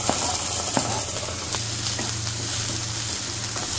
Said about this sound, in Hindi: अब हम इसमें कटे हुए टमाटर को ऐड करेंगे।